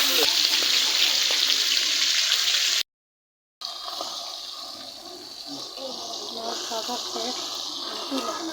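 Ash gourd frying in oil in a wok gives a loud, steady broadband sizzle that cuts out briefly, then carries on slightly quieter with scattered crackles and pops.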